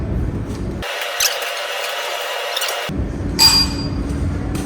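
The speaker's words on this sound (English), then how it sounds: "we're going to take this crown nut off and drop our front hub" Metallic clinks and tool knocks as a crown nut is worked off a car's front hub during an upper control arm job, with a loud broadband burst in the middle and a bright clink near the end.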